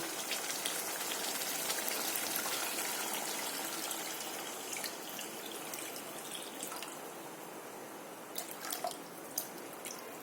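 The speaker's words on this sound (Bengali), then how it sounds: "এবার জল দিলাম।" Water poured into a pan of tengra fish curry cooked with black sesame: a steady, hissing splash that lasts several seconds and fades slightly, followed by a few scattered drips and clinks.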